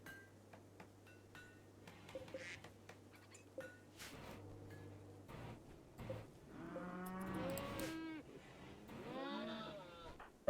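Cows mooing in the video game Rimworld, several long, drawn-out lowing calls in the latter half, moderately loud over quiet game sounds and clicks, with brief talk early on.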